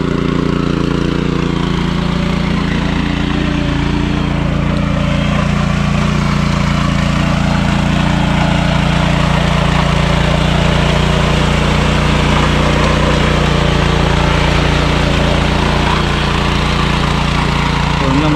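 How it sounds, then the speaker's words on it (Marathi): A tilling machine churning a flooded rice field into mud during Konkan paddy planting drones with a loud, steady engine rumble and mechanical clatter that runs unbroken throughout. "मशीनने बघा जास्त वेळ लागत नाही पटकन पटकन दोन वेळा फिरवले ना लगेच चिखल होऊन जातो"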